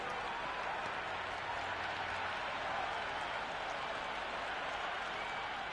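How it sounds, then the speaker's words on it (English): Steady, loud roar of a cheering crowd at a T20 World Cup cricket ground in the Cricket 26 video game, England versus New Zealand, a continuous wash of applause and noise. "the crowd have joined the party. It's pretty noisy at the ground."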